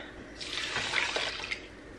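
Tap water runs into a pot for cooking about four cups of rice, a steady hissing rush that swells for just over a second and then tapers, close by with no talking.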